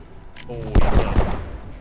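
A grenade launcher fires in the video game Abiotic Factor, a heavy booming burst followed by a couple of rumbling thumps, loud and close, with a voice talking over it.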